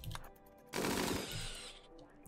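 A burst of automatic gunfire in RimWorld Beta 18, shooting into a herd of capybaras, erupting loudly after a quieter opening and rattling on densely before tapering off.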